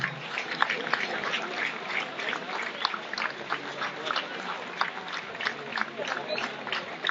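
An indoor crowd applauds champions on the podium at an honour trophy ceremony, a dense run of many hands clapping at moderate distance, with a voice talking over it.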